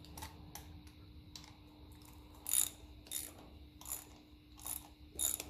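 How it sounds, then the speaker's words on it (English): Fittings being tightened evenly, a few turns each side, on a 1954 Ferguson 20 TEF diesel tractor: short bursts of ratchet clicking come in irregular spurts with pauses between, close and fairly quiet, with no talk. "I like to tighten these kind of fairly even. A few turns each side,"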